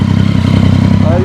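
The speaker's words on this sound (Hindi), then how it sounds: "Just see the exhaust note" A Triumph motorcycle idles close by with a loud, throbbing, pulsing exhaust note, holding steady for just over a second.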